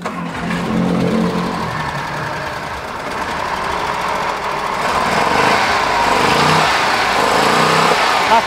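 A freshly rebuilt, brand-new engine runs steadily at close range, a smooth, even mechanical hum and whir that grows slightly louder partway through, with no talk over it.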